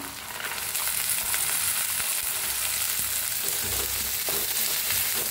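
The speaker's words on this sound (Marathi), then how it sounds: "आता काळं हुलगं बी धुवून घेतलेलं आहे, ते बी तेलात जरा भाजूया" Black horse gram seeds roast in hot oil with onion, garlic and green chili, a loud steady sizzle and frying hiss with occasional stirring scrapes throughout, close and continuous.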